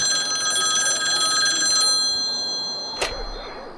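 An old-style telephone bell rings loudly in a rapid metallic trill, then stops abruptly, followed by a brief click as the receiver is picked up.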